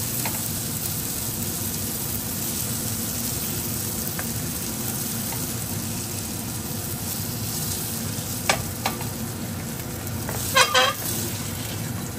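Fish frying in a pan gives a steady, loud sizzle throughout, with a few sharper crackles and pops near the end.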